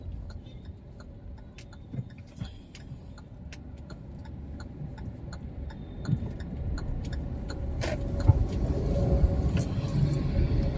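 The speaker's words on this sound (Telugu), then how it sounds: "ఇది ఇక్కడ పరిస్థితి ఈ రకంగా ట్రాఫిక్ జామ్" Road traffic jam on the Vijayawada bypass road, idling and creeping along, engines rumbling low and building louder toward the end, with scattered small clicks and ticks.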